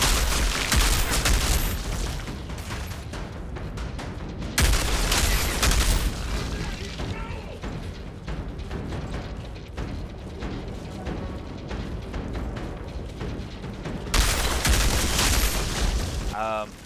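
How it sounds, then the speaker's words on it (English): Enemies in the video game Outriders keep blowing up during a Technomancer solo run. Loud, dense booms and gunfire-like bursts fill the scene continuously, with heavier surges at the start and near the end. "These red ones all over the place keep blowing up all around."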